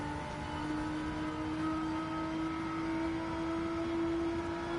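Corvette engine in Gran Turismo 7 with engine damage, holding a steady, sustained drone with a strong tonal whine throughout, moderately loud and continuous with no talk.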